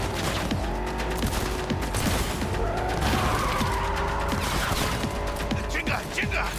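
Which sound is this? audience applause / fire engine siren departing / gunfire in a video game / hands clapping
gunfire in a video game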